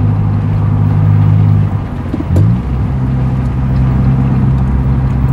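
A Nissan Silvia with a modern fuel-injected engine idles steadily and loudly, then drops off briefly before a quick throttle blip during a downshift, after which the steady idle resumes.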